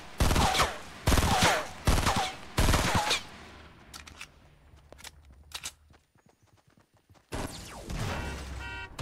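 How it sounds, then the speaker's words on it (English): Gunfire in the video game Fortnite, with four loud separate shots at first, then softer, scattered distant pops and a quiet stretch before another loud burst of fire. "They're shooting. But I don't know where."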